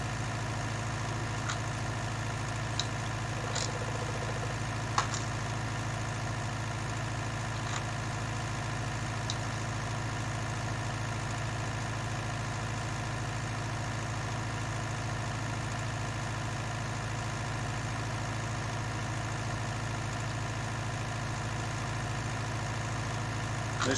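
Tractor engine idling in a farming video game, a steady low rumble that holds even and unbroken throughout, with a few faint clicks and no voices over it.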